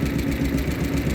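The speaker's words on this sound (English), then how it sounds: "He's got a Hercules engine in." A vintage tractor with a Hercules engine running at a ploughing match, a loud, close, steady idle with an uneven knocking pulse throughout, no voices.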